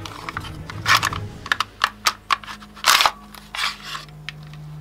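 Slide of a silver Tokyo Marui Desert Eagle .50 airsoft pistol worked by hand during disassembly, giving a quick series of close, sharp plastic-and-metal clicks and scrapes with a couple of louder slides near the middle.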